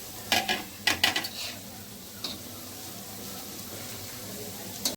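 Chopped onion and chilli sizzle steadily in hot oil in a home kitchen, with a few sharp spoon-against-pan clanks from stirring near the start before the even frying hiss carries on alone.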